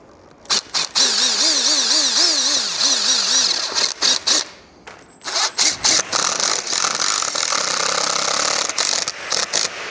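A power driver whirs in repeated short bursts, screws being run into a uPVC sliding patio door frame, with brief pauses between each fixing.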